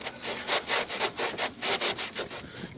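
Rhythmic, close back-and-forth sanding scuffs a surface around a crack in preparation for a Plasti-Men repair, with about a dozen quick, even strokes and no talking.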